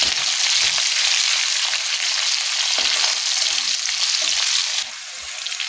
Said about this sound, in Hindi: इसको थोड़ा हम भून लेंगे।